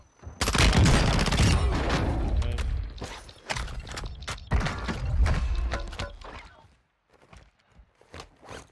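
Gunfire in the video game Warzone 2.0: a loud sustained burst of automatic fire, then scattered single shots and impacts with footsteps and handling noises, fading out near the end.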